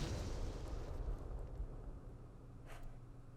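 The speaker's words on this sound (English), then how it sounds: "Another mortar!" A mortar explosion in the war game Campaign Series Vietnam hits as a deep, rumbling boom that rolls out and slowly fades, followed by a brief, sharper burst near the end.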